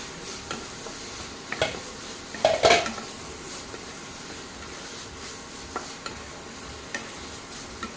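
Taro and nuts go into a cooked spice mix in a pan, with a gentle sizzle under repeated metal spoon clinks and a brief clatter of stirring near the middle.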